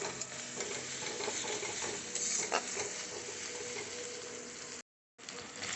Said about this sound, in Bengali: ভালো করে আদা রসুনটাকে ভেজে নিচ্ছি